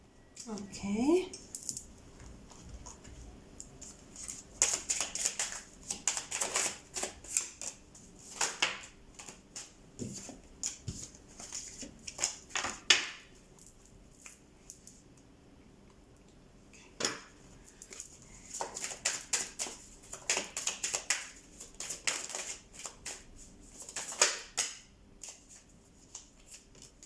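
Playing cards are shuffled in repeated bursts of crisp riffling and flapping, close and fairly quiet, with pauses between shuffles and faint talk in places.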